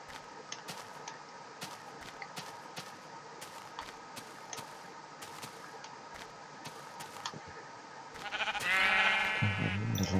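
Sheep bleating in the video game Minecraft, a couple of short blocky bleats in the final two seconds, loud and close, after a stretch of soft game ambience with light clicks and footsteps.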